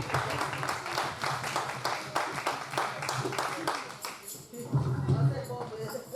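A church congregation claps along in a steady rhythm, many hands beating together at a brisk even pace, with a voice rising over the clapping toward the end.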